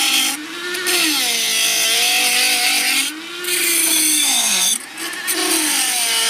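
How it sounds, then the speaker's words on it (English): A Dremel rotary tool grinds into a carbon part on a BMW H2 sport, whining in repeated rising and falling bursts, close and loud, with short dips between passes. "while we got the Dremel tool out?"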